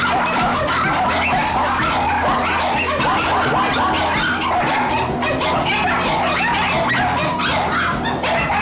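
Several dogs kept at a puppy mill on a mink farm in the Stratford area of Ontario bark, yip and whimper together in a loud, continuous, overlapping din with no talking.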